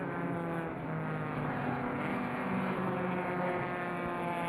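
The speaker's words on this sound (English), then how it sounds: "These 3 are going to come through the carousel right together, that rear-engine Porsche, trying to keep out in front of those 2 BMWs with their inline 6s" A rear-engine Porsche 993 and two BMW E36 race cars with inline sixes run together through a track's carousel, a continuous blended engine roar heard from a distance without pause.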